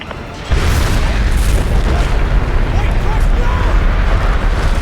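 Nuclear missile launch from a submarine in Call of Duty Modern Warfare 2, a sudden loud roaring rumble that kicks in after a quiet half-second and holds steady, dense and booming, throughout.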